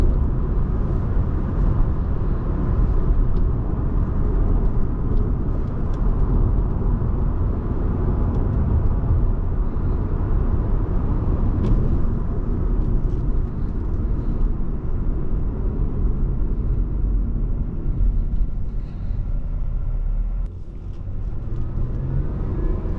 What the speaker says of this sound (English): The only thing that I can hear is just some tire noise, but the wind noise is very well concealed.